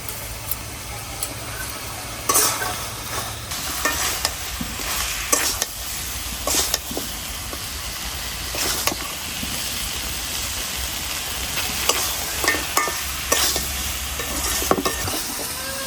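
Chicken being stirred and sautéed with garam masala paste in a pan, a steady sizzle running throughout with periodic scraping stirs of the spoon, close and moderately loud with no talking.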